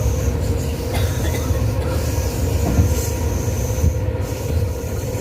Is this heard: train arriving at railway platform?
yes